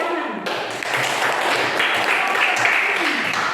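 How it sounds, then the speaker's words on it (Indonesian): Classroom applause after a teacher's prompt in an Indonesian school coaching session, a dense burst of many hands clapping steadily for a few seconds. "Tepuk tangan."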